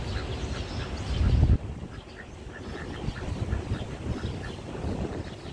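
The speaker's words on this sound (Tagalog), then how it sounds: "Ayan yung itik. Dalawa yan sila." Two ducks quack at a riverside in Belton, Texas, a busy stream of short nasal calls over steady outdoor background noise, fairly close, with a louder rumble near the start and no talking.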